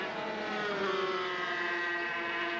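Two-stroke 250cc racing motorcycles at Wanneroo circuit in 1988, a high-pitched engine whine held steady and droning from a moderate distance, with no talk over it.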